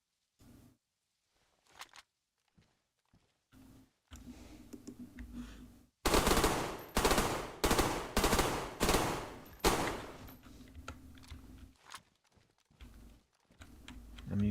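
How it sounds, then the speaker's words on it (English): Gunfire in the video game DayZ, in a lab setting: scattered single shots first, then loud rapid bursts of automatic fire, with quieter clicking in the pauses between. "I'm using my other guns to waste ammunition."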